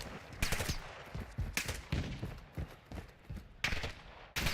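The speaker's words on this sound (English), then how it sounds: "I'm shooting at a guy on the ground." Gunfire in Call of Duty Black Ops 6, heard as several sharp, fairly loud bursts of shots spaced irregularly over a steady background of game ambience, with no talking.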